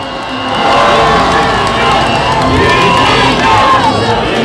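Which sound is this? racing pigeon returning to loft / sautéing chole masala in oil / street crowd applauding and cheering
street crowd applauding and cheering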